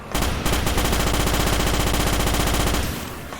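Carbine gunfire in the Starship Troopers video game, a loud, rapid automatic burst lasting a few seconds that then cuts off and fades.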